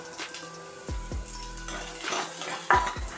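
Garlic, onion, green chilli and capsicum stirred in hot oil over a medium flame for cabbage manchurian, with a utensil clinking and scraping against the pan in short knocks over a faint sizzle.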